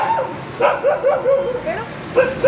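A dog yips and whimpers close by in a few short, high, tonal bursts over about two seconds, with no talking.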